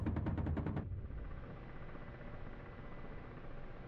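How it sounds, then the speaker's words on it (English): Ka-50 Black Shark helicopter cannon firing in the DCS combat flight game, a short rapid burst of about eight heavy thumping rounds over a steady loud rotor and engine roar that carries on after the burst. "We'll squeeze off a few rounds here."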